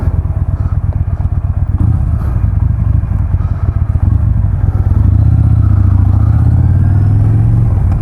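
A motorcycle moves through street traffic, its engine droning loudly and steadily with a rising, revving pitch near the end, heard close amid general road rumble.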